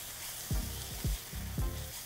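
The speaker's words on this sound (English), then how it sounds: "Just gonna give a stir on the onions." Onions caramelizing in a frying pan give a steady, bright sizzle, with three deep scraping stir strokes about half a second apart, close up.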